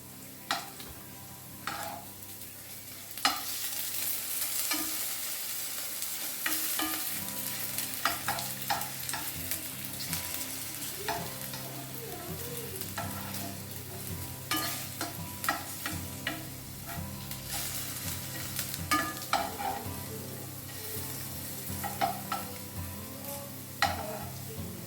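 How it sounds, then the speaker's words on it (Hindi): Potatoes frying in oil on a low-medium flame, with a steady gentle sizzle broken by frequent stirring and spatula clicks against the pan. "जब आप फ्राई करेंगे ना तो इसे ना लो मीडियम फ्लेम पर ही फ्राई कीजिए"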